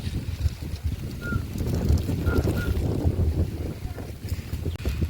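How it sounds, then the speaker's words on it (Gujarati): Strong wind blows across an outdoor farm, rumbling and buffeting the microphone in continuous low gusts that stay loud throughout. "વાળ ઉડી ગયા એટલો પવન છે"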